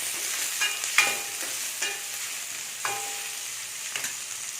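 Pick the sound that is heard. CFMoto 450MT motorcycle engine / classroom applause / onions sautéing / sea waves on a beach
onions sautéing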